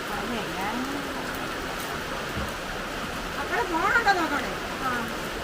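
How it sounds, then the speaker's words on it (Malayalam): Light rain falls in a steady, soft hiss that stays even throughout, with faint background sounds. "ഇതാണ് ഇവിടുത്തെ മഴ. ഇത്രേ ഉള്ളൂ ഇതിൻ്റെ മഴ."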